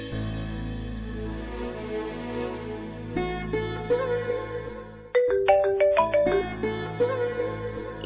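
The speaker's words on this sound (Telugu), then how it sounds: "ఇగో మామ రింగ్ అయితా." A phone ringtone plays while a call is being placed, a loud, close melodic tone sequence that repeats and then shifts into a brighter, more rhythmic tune, with no talk over it.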